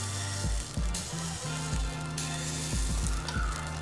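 Miniature food sizzles and fries steadily in a small pan, with a continuous bright crackle and occasional soft stirring or scraping touches, close and moderately loud, no voices.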